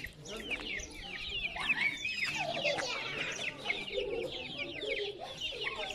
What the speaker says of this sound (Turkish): Oo, ne kadar çok civciv var burada.